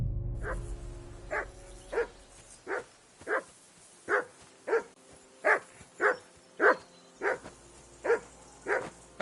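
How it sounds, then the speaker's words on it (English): A dog in the medieval role-playing game Kingdom Come: Deliverance 2 barks steadily and repeatedly, about a dozen loud, evenly spaced barks close by over a low background hum. "That barking was a Free! pain in the ass."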